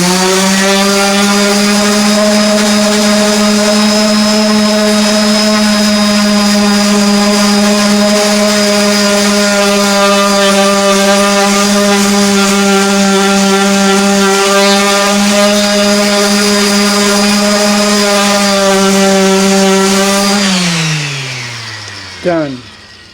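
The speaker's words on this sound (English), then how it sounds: "got a little bit of sanding there and slight sanding there. It's 80 grit sandpaper." A loud power sander with 80 grit sandpaper on wooden cabinet doors whines at a steady pitch for about twenty seconds, then winds down as the motor spins to a stop.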